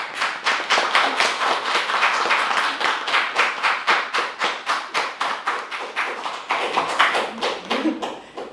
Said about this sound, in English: So our second round of applause for the invisible hands who have supported Surjanka's stories.